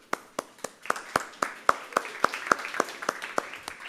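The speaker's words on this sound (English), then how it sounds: "So, everybody, give a round of applause for James." A small audience at a lightning-talks session claps for James, the sharp hand claps landing one after another in a quick, near-regular rhythm, fairly close and sparse rather than a full roar.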